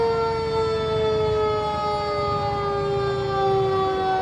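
A fire engine siren wails at a Memorial Day parade, a loud sustained tone with steady harmonics that slowly falls in pitch, heard alone without talking.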